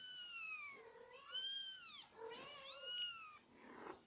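A mother cat with her kittens meows several times in a row: drawn-out, rising and falling cries, close and fairly quiet, with no talk over them.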